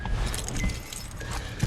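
Car keys jangling close by in a short, bright metallic rattle, heard alone with no talk.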